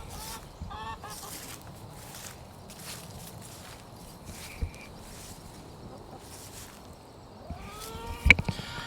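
Ducks on a homestead quack and honk intermittently at moderate distance, with footsteps and light rustling in between and a louder cluster of calls near the end.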